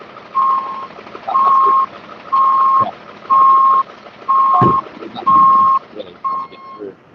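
Tow truck backing out in South Austin, its reversing alarm giving seven evenly spaced loud beeps over a low idling engine, the last one cut short, with brief background voices.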